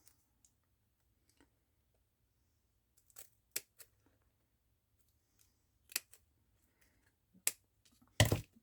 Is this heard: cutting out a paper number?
yes